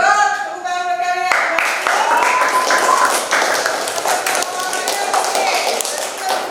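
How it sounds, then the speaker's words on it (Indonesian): Students in a classroom clap together during a lesson, a burst of hand claps with a few sharp taps mixed into the room noise, while voices talk over and around it near and fairly loud. "Tepuk tangan buat kalian."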